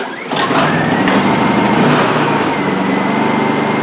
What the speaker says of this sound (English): starting the generator straightforward and simple